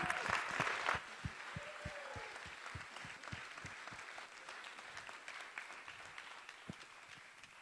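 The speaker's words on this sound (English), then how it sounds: "One more round of applause for Ken, everybody." A burst of applause from an evening event's audience after a performer's act fades into scattered, slower clapping that trails off into a few lingering claps.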